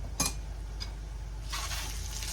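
Onions sizzling in hot oil with crushed ginger-garlic and hing for an arbi dish, a steady close fry with a couple of quick stirring scrapes and a rising crackle near the end, no talk.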